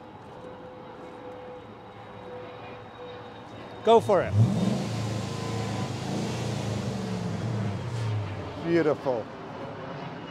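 A 2005 Dodge Ram Daytona idles with a low steady rumble, then its engine is revved, with bursts of revving near the start and again near the end, while people talk nearby.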